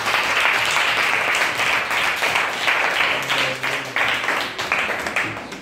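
A crowd at an orphanage in Divo claps and applauds, a dense, loud, sustained patter of many hands that thins slightly toward the end.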